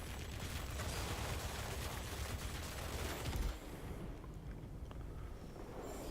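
Rapid, dense machine-gun fire from the four guns of an XF5U fighter in World of Warplanes, a loud continuous roaring rattle that cuts off after a few seconds and leaves quieter engine drone.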